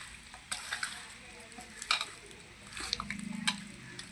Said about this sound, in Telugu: బాగా కలిసేలాగా కలుపుకొని